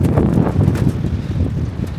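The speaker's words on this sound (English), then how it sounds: "It is incredibly windy" Strong gusty wind on the North Wales coast buffeting the microphone, a loud continuous low rumble and roar with no voices.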